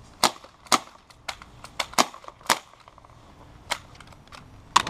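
BB gun shots snap out as a series of sharp, irregular cracks with quiet gaps between them, close and fairly loud, with no talking.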